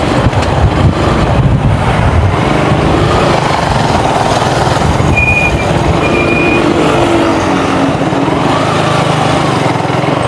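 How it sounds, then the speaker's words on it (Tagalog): Engine and road noise from a truck driving along Daang Hari road near Villar City, a steady rumbling drone that stays loud and continuous throughout without voices. "May truck pa nga rito, buti di nahuli to."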